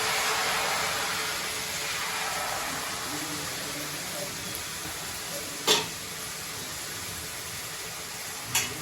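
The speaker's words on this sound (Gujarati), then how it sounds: "આપણે તેલમાં તળી છીએ" Jalebi frying in hot oil in a home kitchen, a steady bubbling sizzle that holds throughout, with a couple of sharp clicks or clatters near the end.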